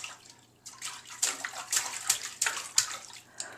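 Water splashes and sloshes in a filling bathtub in a quick run of close, bright bursts, with no talking.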